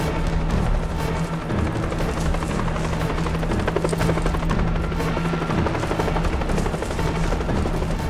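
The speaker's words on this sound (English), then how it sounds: "Chopper is en route." A helicopter in a monster-movie scene thunders continuously and close, its rotor chop loud and steady throughout, layered with dense action-soundtrack noise.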